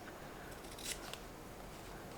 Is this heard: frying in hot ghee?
no